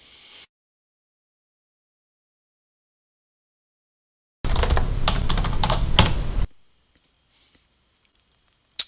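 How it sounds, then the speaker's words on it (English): Fingers type a password on a computer keyboard, a brief close burst of rapid clicking keystrokes lasting about two seconds between stretches of near silence. "type in your password again"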